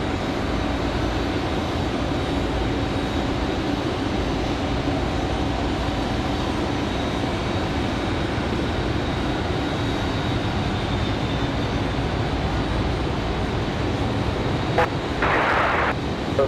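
A Boeing 737-700 airliner at Raleigh-Durham International Airport on a windy day, a steady broad engine roar sustained throughout at moderate distance, with wind noise and a faint voice near the end.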